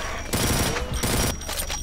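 An Uzi in a shooter video game fires in rapid, dense bursts, two loud rattling volleys of automatic gunfire close up, with no talking over them.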